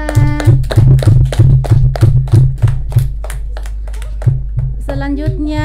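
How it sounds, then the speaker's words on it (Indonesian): Children at a kindergarten clap their hands together in a loud, rhythmic burst that fades after a few seconds, followed by a brief voice near the end. "Tepuk tangan semua"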